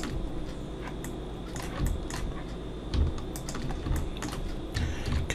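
Computer keyboard keys pressed for Blender shortcuts, a quick irregular run of close, soft clicks and taps with a few louder presses spaced through.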